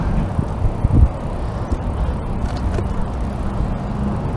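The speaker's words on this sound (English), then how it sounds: "I can hear loud traffic either side of me" Loud road traffic rushes past a cyclist riding by industrial units, a continuous dense roar of passing vehicles with wind buffeting, and no voices.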